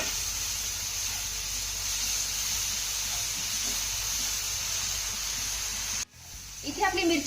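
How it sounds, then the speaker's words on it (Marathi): Green chilies sautéing in hot tempering oil make a steady hiss that holds evenly for about six seconds, then cuts off sharply, after which a voice starts speaking. "मिरची आपली फोडणीमध्ये घालून झाली की ही मिरची आपल्याला एक ते दोन मिनिटं चांगली परतून घ्यायची आहे"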